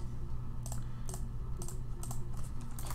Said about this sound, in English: I like how you can hear like the old keyboard in the background